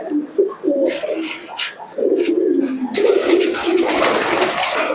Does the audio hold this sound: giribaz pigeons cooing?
yes